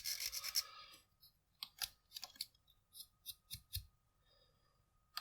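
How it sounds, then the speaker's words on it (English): A hand file rasps against a soft 3D printed plastic part in short, quiet, close scraping strokes, several separate bursts with brief pauses between them. "Just go at it with the file."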